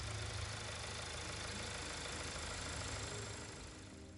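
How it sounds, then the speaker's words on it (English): A road car's engine idles in GT Sport, a steady, loud mid-to-low rumble that runs unbroken and alone with no talk. "That's an interesting sound for a road car"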